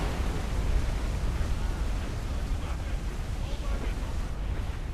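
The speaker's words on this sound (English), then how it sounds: "Water spout!" Waterspout at sea in Assassin's Creed Black Flag, a continuous heavy roar of wind and churning water with low rumble throughout, loud and steady with no clear breaks.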